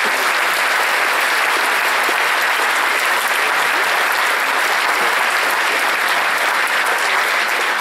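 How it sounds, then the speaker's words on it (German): A concert audience at a German wind band's spring concert gives loud, dense, sustained applause to welcome the host, a steady wash of clapping from a full hall. "begrüßen Sie sie mit einem herzlichen Applaus"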